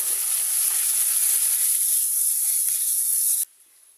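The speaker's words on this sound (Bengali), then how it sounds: "মশলাগুলো ভেজে নিচ্ছে এই যে মশলাগুলো ভাজি" Spices frying in a pan in a home kitchen, giving a steady bright hiss and sizzle for about three and a half seconds before cutting off abruptly to near silence.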